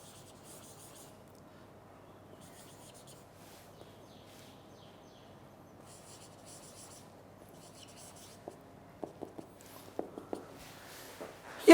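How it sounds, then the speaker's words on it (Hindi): Chalk or marker strokes scratch across a classroom board in a quiet lecture room, soft and faint at first, then a run of sharper, louder taps and strokes near the end. "मैं दोनों ही लिख देता हूं"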